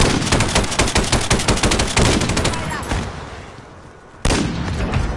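Rapid gunfire from a shooter video game, loud and fast automatic bursts for about two seconds, then thinning shots that fade before a sharp burst returns near the end; no voices over it.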